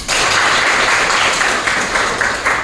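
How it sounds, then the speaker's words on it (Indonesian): Students in a class session applaud together, a loud, dense and steady wash of clapping that fills the whole stretch without pause, with no talking over it. "Ya, tepuk tangan."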